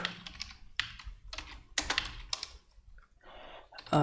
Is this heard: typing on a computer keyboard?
yes